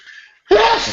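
A single sharp, loud sneeze close by, preceded by a faint breathy intake and a brief pause.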